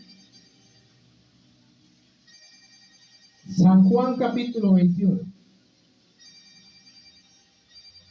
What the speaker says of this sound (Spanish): alguno que está durmiendo por allá atrás le está sonando el teléfono